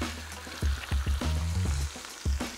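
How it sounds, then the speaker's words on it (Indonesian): Chili sautéed in plenty of hot oil in a pan for a Padang-style balado, loud close sizzling and crackling with repeated stirring thumps and scrapes. "Sekarang kita tumis cabenya"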